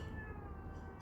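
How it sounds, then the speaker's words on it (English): A white cat meows, a drawn-out wavering cry lasting about a second, close and fairly loud over low background noise. "The white cat's like meow, but Dandelion's quite chill."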